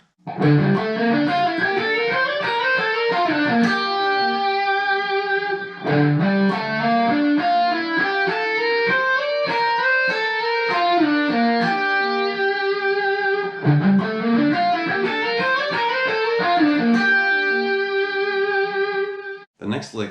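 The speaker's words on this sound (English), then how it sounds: "you can kind of hear it on electric guitar with distortion and delay" Fast arpeggiated electric guitar runs with a distorted, echoing tone, played in continuous cascading phrases with brief breaks between passages.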